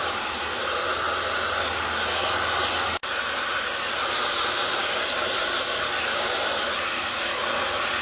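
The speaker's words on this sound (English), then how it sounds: "I'm gonna diffuse." Loud, constant hair dryer with a diffuser attachment blowing air through hair, a dense steady whoosh and hiss that cuts out for a split second midway, then resumes unchanged.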